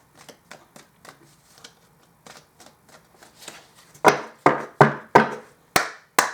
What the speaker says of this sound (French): On va tirer les cartes ensemble.